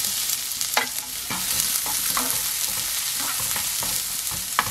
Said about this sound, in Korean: 자, 양파와 대파를 넣어주겠습니다.